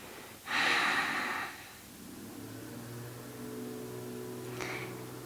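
A sharp breath followed by a long audible exhale near the mic during a slow hip and lower back yoga flow, then a quieter stretch with a low steady hum underneath.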